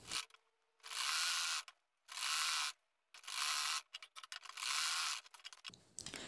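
A domestic sewing machine stitches salwar fabric in four loud bursts of rapid mechanical whirring, each about half a second to a second long, separated by short pauses, close and alone with no talk.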